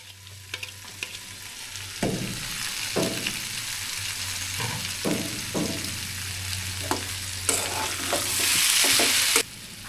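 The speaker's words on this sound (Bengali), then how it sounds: "এবার আলু এবং লাউয়ের খোসাগুলো দিয়ে দিব। দিয়ে নাড়তে থাকবো।" Potatoes and bottle gourd peels frying in a pan as they are stirred, a steady sizzle punctuated by repeated scraping and knocking strokes of a spatula, swelling into a louder hiss near the end, no speech.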